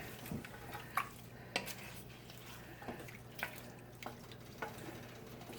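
Spoon stirring salsa ingredients in a pot or bowl for canning, with soft scattered clinks and scraping taps at irregular intervals, close and fairly quiet, no talking.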